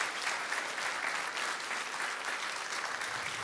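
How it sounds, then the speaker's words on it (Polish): Audience applauding at a music school's end-of-year concert, steady dense clapping sustained evenly throughout, fairly close and continuous with no voices over it. "brawa dla naszej wspaniałej młodzieży"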